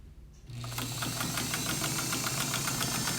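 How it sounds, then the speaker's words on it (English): Necchi BCJ sewing machine stitching through heavy, thick fabric after an overhaul, a steady close mechanical whir with a rapid even stitching rhythm that starts after a brief quiet moment and runs continuously. "I always like to start with my needle down when I'm sewing something heavy and thick like this"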